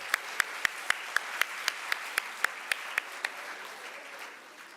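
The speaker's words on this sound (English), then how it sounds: "I would request students to give a big round of applause for all our esteemed guests and" Audience at a law college workshop claps for guests, but only a single pair of hands is clearly heard: about sixteen crisp, evenly spaced claps that fade slightly over nearly five seconds before stopping.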